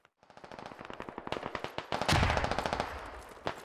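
A heavy machine gun fires a long rapid burst in the video game Squad, sharp evenly spaced shots building to a dense loud roar, then a last isolated shot.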